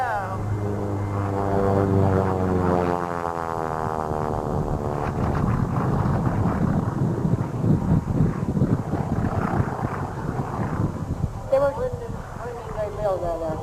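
A 1932-design Gee Bee R-2 racing airplane flies through a series of rolls at an air show, a loud propeller engine drone sweeping in pitch as it passes, with wind buffeting and someone talking over it.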